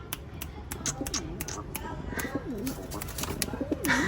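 A pigeon coos repeatedly in low, rolling calls close by at a Sunday bird market, with sharp clicks and light background noise throughout.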